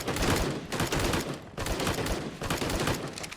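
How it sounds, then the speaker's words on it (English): Rapid bursts of bullpup rifle gunfire from a modded ARK video game weapon, a three-round burst firing mode, crackling loud and close in repeated volleys with brief gaps between them. "It's a bullpup style. It's a 3-round burst."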